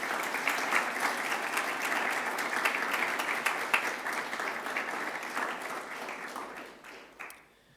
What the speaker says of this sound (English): can we get a round of applause for all the coaches and the sports staff?